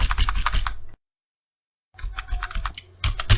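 A password is typed on a keyboard in quick bursts of crisp, close key clicks, broken by a one-second silence before the tapping resumes, with no talking.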